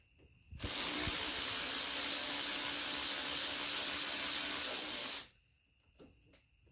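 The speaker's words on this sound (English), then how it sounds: "Take that bolt out." A ratchet wrench backs a bolt out of a Harley-Davidson Fat Boy handlebar, a steady, loud, unbroken clicking whir lasting about five seconds, close by and alone, followed by quiet.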